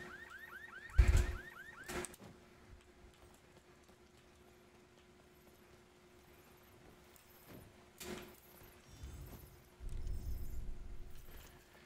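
An alarm going off, heard as a repeating rising electronic chirp in the first second or two, then mostly quiet with thumps and rustling bursts later.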